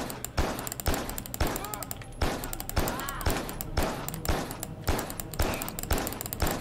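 Pistol shots ring out rapidly in the video game Carrion, a regular string of sharp, punchy reports about twice a second, loud and close, with a voice talking in between.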